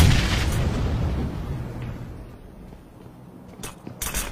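A grenade detonates in Peacekeeper Elite, a deep booming blast that rumbles and fades, with a few sharp crackles at the end.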